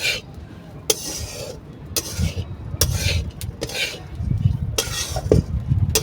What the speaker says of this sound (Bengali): শুকনো কড়ায় একদম ভালো করে ভেজে নেব, হালকা ব্রাউন করে ভাজবেন।